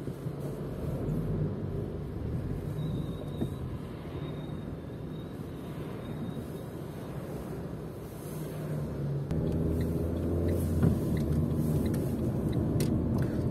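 Steady traffic rumble from cars passing on a busy road around Novovyatsk, heard from inside a moving vehicle, a continuous low drone that swells slightly toward the end.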